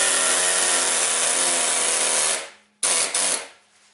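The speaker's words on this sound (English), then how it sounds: "Let me get the weak sauce air hammer, see if that'll do anything." A loud, rapid mechanical hammering buzz from a pneumatic air hammer working a Ford Escape ball joint runs continuously, then cuts out and gives two short bursts before stopping.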